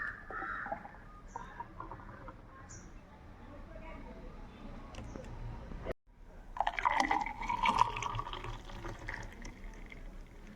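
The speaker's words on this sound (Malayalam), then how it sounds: "ഞാനിവിടെ അടിച്ചു വെച്ചിരിക്കുന്ന ഗ്രേപ്പ് മിൽക്ക് ജ്യൂസ് ഞാനിവിടെ ഗ്ലാസ്സിലേക്ക് ഒഴിക്കുന്നു." Homemade grape milk juice is poured from a container into a glass, giving a steady liquid trickle and splash that swells louder in the second half, with kitchen background noise.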